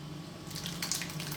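Thick chili sauce poured over chopped vegetables in a glass oven-proof dish for a Mexican-style vegetable chili cheese bake, a soft wet glugging splash that swells after a quiet start and carries on steadily, close by.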